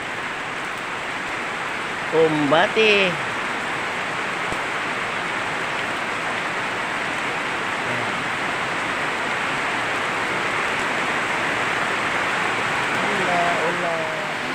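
Steady, dense hiss of heavy rain pours throughout, with a brief spoken word near the start and faint voices later, on a street with no passing traffic.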